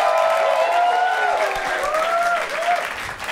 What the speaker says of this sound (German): Applaus für den großartigen Matthias Ludwig!